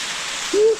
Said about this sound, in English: Decent waterfall. Under a little heavier flow.